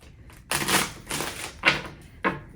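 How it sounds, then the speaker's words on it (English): Tarot cards are shuffled in a few quick riffling bursts, each a sharp papery flutter close by, separated by short pauses. "I gotta give it a good shuffle"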